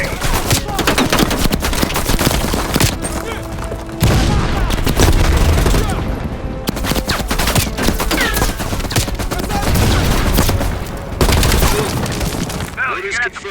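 Enemy machine gun fire in Call of Duty Black Ops Cold War, loud dense bursts of automatic shots and booms in a continuous fusillade, with short pauses between volleys.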